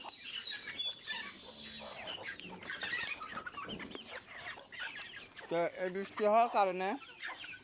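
Native country chickens cluck and call repeatedly at close range on a farm after rain, with someone speaking over them.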